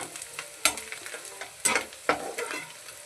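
A spoon stirring onions frying in a pan for a Marmara bajji curry, with a few scraping strokes over a steady close sizzle and no talk.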